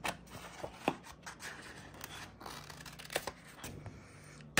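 Paper card being trimmed with scissors, close and quiet: a series of irregular snips and crisp paper rustles spread across the whole stretch, with no talking.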